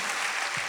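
Brief burst of crowd applause from a gathered audience, dense and even clapping with no break.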